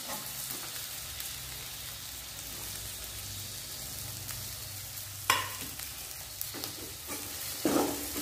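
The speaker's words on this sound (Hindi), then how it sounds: "सिर्फ इसको थोड़ा सा फ्राई करना है।" Finely sliced cabbage stir-fries in a hot pan for noodles, giving a continuous sizzle with spoon scrapes and clatters, two sharper knocks standing out near the end.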